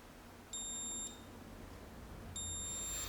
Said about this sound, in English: I'm taking my multimeter and I have it set on diode, and I'm going to actually be tracing, making sure that I hear the beep